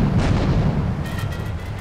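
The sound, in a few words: grenade explosions in video game Grand Theft Auto III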